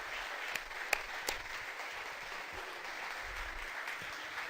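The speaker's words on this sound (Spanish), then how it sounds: "dale un fuerte aplauso al Señor en esta hora por lo que Él es" A church congregation claps for the Lord during a Spanish-language service, producing a steady, faint wash of distant applause with a few sharper individual claps standing out near the start.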